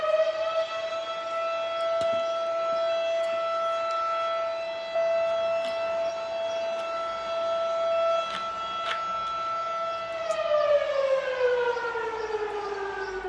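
A civil defense siren sounds for an accident or fire, a sustained steady wail heard from a distance that holds its pitch and then slowly winds downward near the end, with no voices over it.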